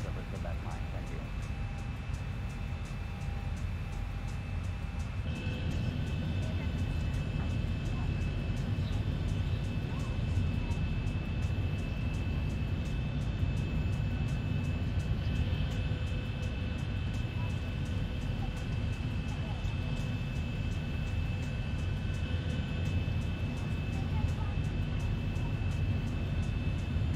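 Steady engine drone and air roar inside a Boeing 737-900 airliner cabin during descent in X-Plane 11, between New York JFK and Boston Logan, continuous and loud, with faint tones above.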